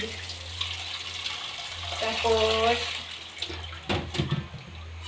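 Tap water runs into a basin for washing peeled sweet potatoes in a home kitchen, a steady splashing flow that swells in the middle, with a brief clatter near the end and a voice speaking.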